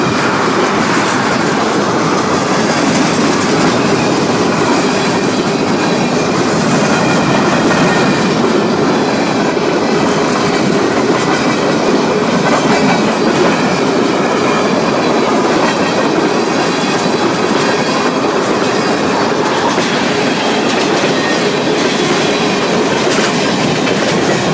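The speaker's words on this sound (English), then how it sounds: "Now this, I'm assuming he's a high priority freight." CN freight train led by SD40 and SD60 locomotives rolls past on the Halton Subdivision with loud, continuous clickety-clack of wheels over rail joints and occasional wheel squeal.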